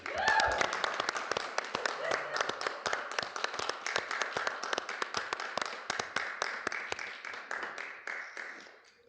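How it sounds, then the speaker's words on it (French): Wedding guests applaud the newlyweds with a burst of many individual claps that gradually thin out and fade, heard at moderate volume with faint voices underneath. "On peut les applaudir."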